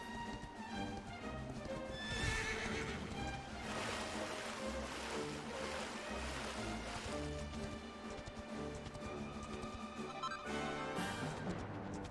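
Horse whinny and clip-clop hooves in the Dragon Quest XI video game, heard over a dense, steady bed of game music and ambient water sounds throughout.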